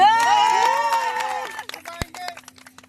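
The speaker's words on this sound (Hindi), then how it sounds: "ताली तो बजा दो" Ceremonial crowd at a wedding breaks into brief scattered clapping and cheering after a voice, the applause uneven and fading with sharp isolated claps near the end.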